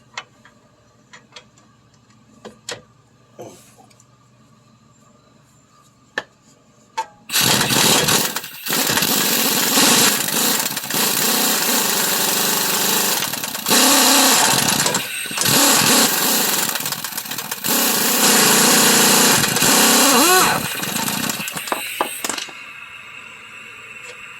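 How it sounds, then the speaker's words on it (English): Pneumatic impact wrench hammering on a front ball joint of a 2012 Ford Escape, a loud sustained rattling burst of about fifteen seconds with short pauses and trigger pulls, preceded by quieter ticks and clanks. "put the air gun back on. And then I'll just lug tap it."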